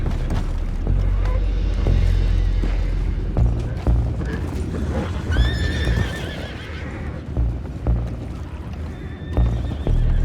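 Horses neigh and whinny loudly in Red Dead Redemption 2, with hooves clopping and deep booms underneath; a voice briefly speaks amid the noise.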